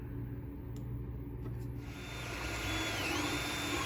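A 3D printer running a print of a rifle trigger guard for a Ruger American, giving a steady mechanical hum whose stepper-motor whine rises and shifts pitch partway through, close and continuous with no talk.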